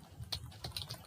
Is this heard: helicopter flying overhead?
no